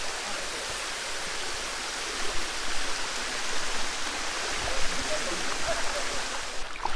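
Continuous broadband rush of a waterfall on the Boalia trail, close and steady, with faint voices underneath.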